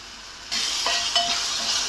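Onion-garlic paste frying in oil for a chickpea curry. It sits quietly at first, then a loud hiss and sizzle bursts up as red chili powder goes in, with faint stirring scrapes after.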